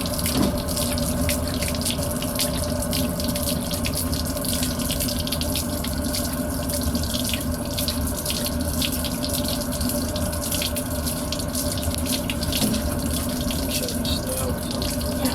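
Hot water pours steadily from a tap in a 2012 Keystone Passport 3220 BH travel trailer, a constant close rushing splash that holds unchanged throughout.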